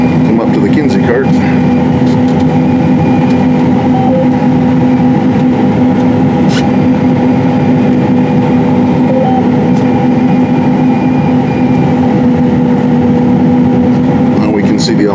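A 2019 John Deere S790 combine runs its unloading auger, emptying wheat into a grain cart with a loud, steady mechanical drone and rumble that holds unbroken throughout.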